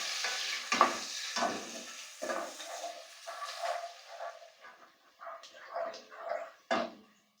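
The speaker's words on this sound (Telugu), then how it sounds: "సో ఇప్పుడు ఫ్రైడ్ ఆనియన్స్ వేయించుకుందాం ఫస్ట్ ఆయిల్ పోసుకోవాలి" Onions frying in oil in a pan on a high flame for chicken dum biryani, stirred steadily with a spoon; a near, moderate sizzle with repeated scraping strokes in an uneven rhythm, no talking.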